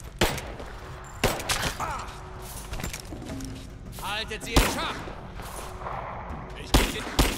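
Gunfire in a firefight in Rise of the Tomb Raider, with sharp, irregular shots and impacts spread throughout, under German shouting and talk, plus thuds and groans in the mix.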